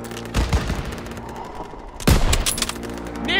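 Bursts of World War II-era gunfire in Call of Duty: WWII, loud and close, with heavy volleys near the start and again around the middle over a continuous battle din.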